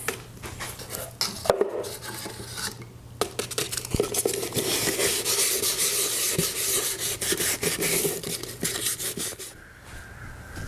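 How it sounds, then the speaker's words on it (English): Wet sanding with 500 grit sandpaper on a 1972 Honda CB450 cafe racer part gives a continuous close rasping rub in long back-and-forth strokes, with a few brief knocks at the start. "flatten it all out with some 500 grit sandpaper. And I'm going to do wet sanding"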